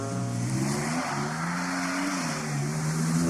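A Porsche rally car engine screams at high revs, loud and close, its pitch climbing and shifting through gear changes over a continuous roar, with no talk.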